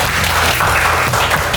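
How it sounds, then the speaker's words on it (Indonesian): Short, loud burst of group clapping from senior high school students gathered in a school hall, dense and close with a slight rhythmic beat. "Yang main Instagram ada tepuk tangan."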